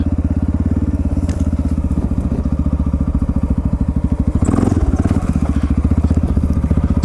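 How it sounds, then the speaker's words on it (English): A Honda XR650L dual-sport motorcycle chugs steadily close by on a trail ride, its thumping single-cylinder idle rising into a short, sharp throttle blip near the middle before settling back to a loping putter. "See a little blip of the throttle there for some of those bigger ones"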